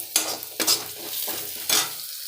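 Onions sautéing in a pan while making venthaya kulambu, with three or four scraping stirs over a soft steady sizzle, close and clear, no voices.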